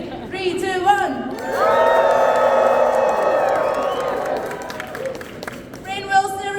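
A convention audience at a fan expo Q&A breaks into loud cheering and whooping, a sustained swell of shouts and voices that builds, holds for a few seconds, then fades back, with scattered calls on either side.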